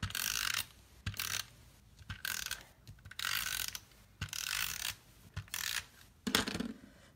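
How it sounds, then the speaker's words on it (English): A snail adhesive tape runner is pressed onto foam for card making, giving soft ratcheting clicks and scrapes in short bursts separated by quiet pauses. "we'll put some snail adhesive on that foam"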